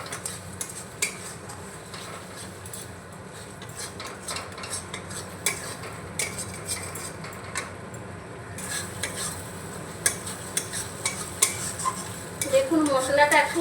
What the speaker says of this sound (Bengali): এবার একটু নাড়াচাড়া করে নেব এইভাবে